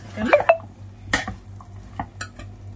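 Metal utensil scraping and clinking in a pan while fish curry masala is sautéed with potatoes for tangra fish, a few distinct sharp knocks over a low steady hum, close and moderately loud.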